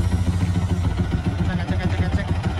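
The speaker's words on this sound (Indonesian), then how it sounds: "mesinnya itu bunyi berisik, bunyi kasar." A Yamaha R15 V3 motorcycle engine, bored to 240cc, idling roughly up close, with an uneven, sputtering throb that stays loud throughout.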